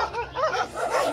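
Several dogs at a dog centre in Namche Bazaar give short yips and whimpering barks at close range, brief and fairly soft.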